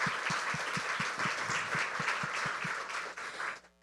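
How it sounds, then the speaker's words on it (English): An audience at a Little Big Things event in Austin gives a sustained round of applause, a dense wash of clapping that fades out at the end. "So let's give them a round of applause"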